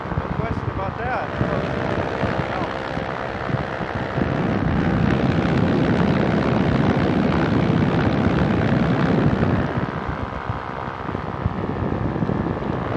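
An ultralight airplane engine drones steadily in flight, a loud constant propeller hum with rushing wind close around the cockpit, unbroken throughout.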